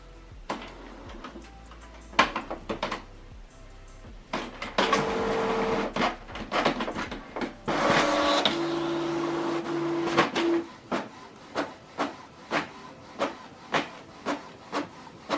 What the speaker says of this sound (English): Printing is completed